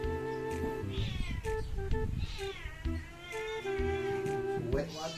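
A cat meows repeatedly at close range, rising and falling cries in quick succession, while people talk at the same time.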